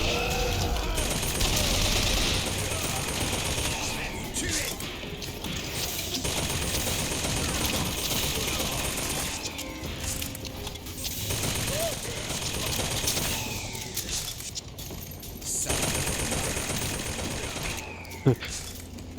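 Bursts of rapid automatic gunfire from the video game Bioshock Infinite, dense rattling volleys repeating across the whole stretch with brief lulls, loud and busy, with a player's voice talking over parts of it.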